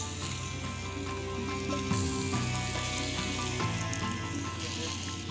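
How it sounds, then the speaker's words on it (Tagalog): Ayam Cemani chicken pieces searing skin side down in a hot pan, a dense continuous sizzle heard close and loud, with no talking. "Sear na natin yung ating chicken."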